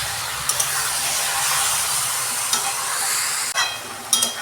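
Pieces of chicken are stir-fried without water in a pan for a village-style curry, giving a steady close sizzle broken by a few sharp clatters and scrapes of the spoon.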